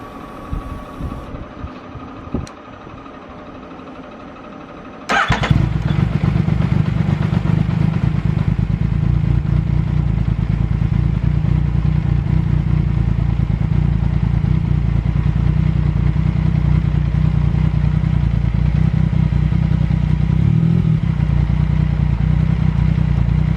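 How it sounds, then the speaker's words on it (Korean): A Yamaha MT-09 Tracer motorcycle, in for a spark plug, oil and coolant service, cranks and catches after a few quiet seconds of faint workshop noise, then settles into a loud, steady, close idle that runs to the end. "자, 이제 시동을 걸어 봅니다."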